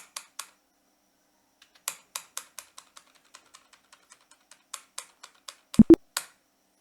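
Keys on a computer keyboard are typed in quick, light taps with short pauses between them, ending with a couple of sharper, heavier presses, close and otherwise quiet.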